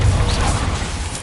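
A Bombarda blasting spell explodes in the Hogwarts Legacy video game, giving a dense, loud burst of low rumble and crackling debris that slowly fades over a second or so.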